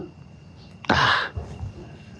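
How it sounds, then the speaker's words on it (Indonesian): Someone coughs indoors, a single harsh burst lasting under half a second that stands out clearly over a quiet background, followed by faint low murmuring. "Di dalam sini ada yang batuk tadi."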